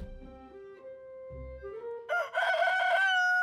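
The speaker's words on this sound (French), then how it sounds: "Depuis quand il y a un coq dans la cité de la Grande Pomme?" A rooster crows in a cartoon, preceded by low tonal clucking and rising notes before a loud, bright, sustained cock-a-doodle-doo that ends the stretch, with no talk.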